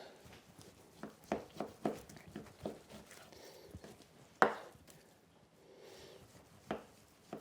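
A roughly 8-inch knife cuts through a beef sub primal, giving soft, close slicing and tapping sounds in an irregular rhythm, with one sharper knock midway, all fairly quiet.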